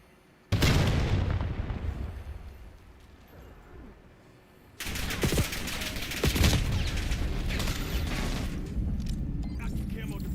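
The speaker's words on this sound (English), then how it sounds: "Hostile grenade." Grenade blasts in the shooter game Call of Duty Black Ops 7, one sudden loud burst that fades out, followed by a second heavy explosion that keeps rumbling with crackling debris, alongside game voice announcements.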